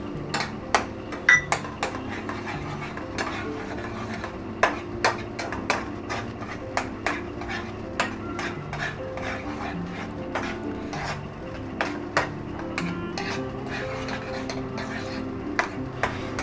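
Metal utensil clinking and scraping in a pan while egg ghotala is stirred and cooked, with frequent irregular taps over a steady low kitchen hum, close by.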